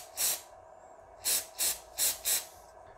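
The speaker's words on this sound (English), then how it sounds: "You want to spray especially inside there" Short bursts of spray hiss from an aerosol cleaner can onto a Mitsubishi Mirage G4 mass air flow sensor, one spurt followed by four quick pulses, close up against quiet background.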